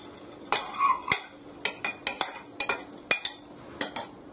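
A spoon scrapes and clinks in a pot as boondi is stirred into hot sugar syrup for ladoos, giving a steady series of about a dozen sharp metallic taps and scrapes, close and fairly quiet.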